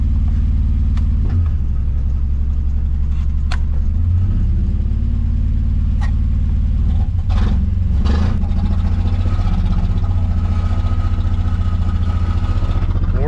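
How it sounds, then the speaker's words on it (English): A 1963 Plymouth Belvedere, driven for the first time since 1978, rumbles steadily at close range with a low, heavy engine drone as it is put in drive, with a brief shift in tone midway and no talking. "When we put it in drive, and that's it. She wants to move just like that."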